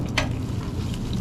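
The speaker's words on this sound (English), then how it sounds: "So Leanne is cracking the eggs, frying up one for Rebecca" Eggs fry in a pan at a country breakfast cookout, giving a steady close sizzle with a brief brighter crackle near the start.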